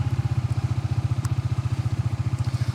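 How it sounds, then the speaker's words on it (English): A Zontes 350E maxi scooter engine idles close up, with a steady, even low throb and no voices. "I have to start the engine for that."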